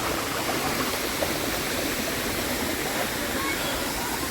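A waterfall of very cold water, a dense, steady rushing roar that fills the whole stretch, close and continuous with no pauses.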